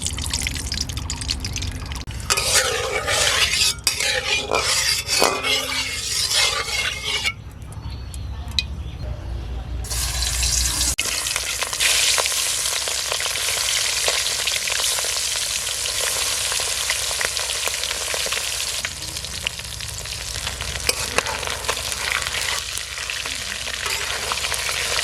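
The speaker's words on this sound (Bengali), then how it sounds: "কড়াই গরম হয়ে গেছে। এখন মাছ ভাজার জন্য সরিষার তেল দিয়ে দেবো।" Tengra fish fry in hot mustard oil in a wok with loud, dense sizzling and spattering close by, easing briefly before a strong steady fry resumes for the rest.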